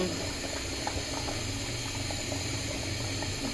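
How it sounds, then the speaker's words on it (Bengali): A pot of chicken curry with sweet pumpkin and potato bubbles at a steady rolling boil, a dense close gurgling texture with no pause. "তরকারি বলক উঠে গেছে।"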